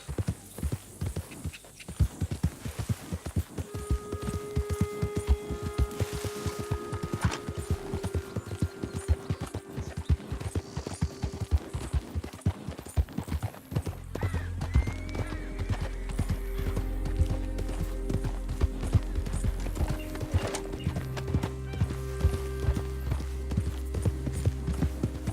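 A horse in the video game Red Dead Redemption II clip-clops steadily on the ground, its hooves in a fast, continuous rhythm under a low game score, with a brief neigh mixed in.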